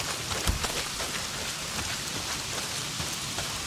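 Heavy rain pours down steadily in the video game Days Gone, a dense, continuous hiss of drops on surfaces with a few louder spatters, no voices.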